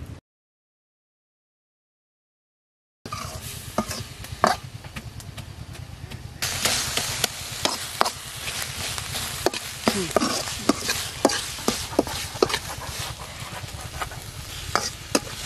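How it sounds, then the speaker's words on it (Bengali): Radish greens fry and get stirred in a pan, giving a steady sizzle with frequent scraping and clacking stir strokes that grow busier partway through, close and alone with no talk. "মূলো শাক ভাজি হয়ে গেছে, এবার তুলে নিচ্ছি"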